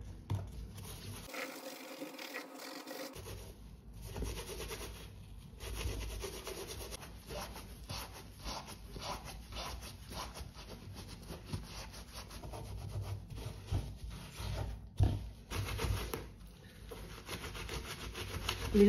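A white Nike TN sneaker being scrubbed with a brush: close, steady rasping strokes in quick rhythm, pausing briefly near the start and once or twice later.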